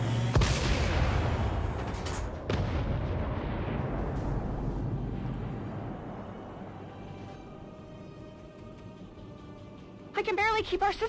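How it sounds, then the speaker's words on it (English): A huge cannon fires in the video game XCOM 2: one massive, close blast followed by a long rumbling boom and a second hit, decaying slowly over several seconds before sharp electronic game sounds cut in. "the big cannon fires"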